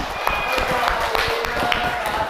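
A classroom of high school students claps for a classmate in an economics lesson. The applause is brisk and close, with mixed tones and a few sharper hits in a lively burst.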